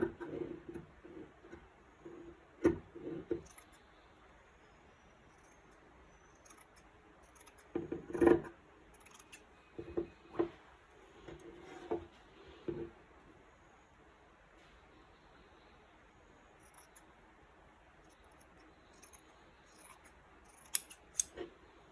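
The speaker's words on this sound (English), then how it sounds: "make sure I don't cut this little piece of the gusset lining" Scissors snip through quilt gusset lining fabric in short scattered bursts of close, crisp cutting, separated by quiet pauses, with a cluster of cuts near the middle and a few more at the end.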